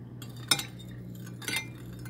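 Peppermint oil being stirred into whipped body butter in a bowl, with two distinct light clinks of a utensil against the container about a second apart over a quiet background hum.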